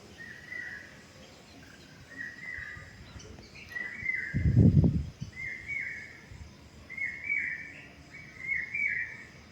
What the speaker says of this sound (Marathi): कोकिळा एकदम छान असा आवाज देत होती